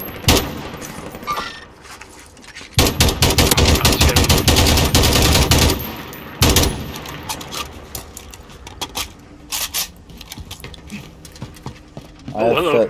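Video game gunfire sounds in a shooter match, with scattered single shots, then a dense sustained burst of rapid automatic fire for several seconds, followed by more intermittent shots and a final burst, with a voice speaking at times.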